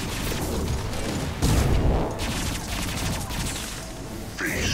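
Dense, continuous gunfire in a Mass Effect firefight, loud and close, with heavy booming bursts and crashing impacts blurring into one roar.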